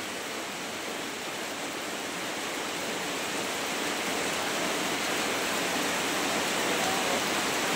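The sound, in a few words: rain falling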